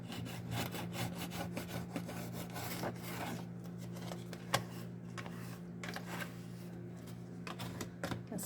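Wax scraped off a kitchen counter, a rapid run of close, rasping strokes in a steady rhythm, quieter and sparser in the second half, over a faint low hum.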